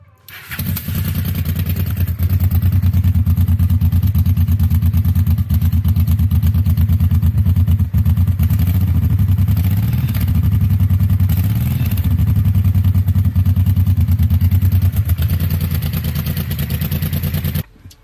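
Honda XL600V Transalp PD06 V-twin motorcycle idling loudly through an exhaust pipe with the muffler insert removed, a steady low throbbing rumble held close and unbroken for the whole stretch, with slight wavering in pitch and no voices.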